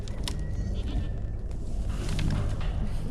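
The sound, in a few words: child imitating a goat bleat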